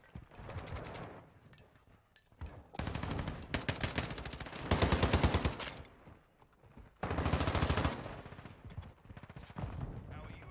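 A light machine gun in Warzone 2 fires long, loud automatic bursts separated by short pauses, each burst a rapid stream of close shots, with a voice talking between them.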